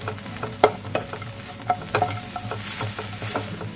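Red amaranth greens with fried lentil dumplings and nuts are stirred in a hot frying pan, a close sizzle under quick rhythmic scrapes and knocks of the spatula.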